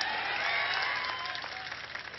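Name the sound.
crowd applause at a political rally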